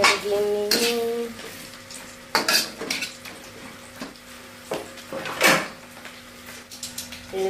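Bitter melon being stir-fried in a pan, with a spatula clattering and scraping against the metal in repeated bursts over a soft sizzle, close and fairly loud, with no talking.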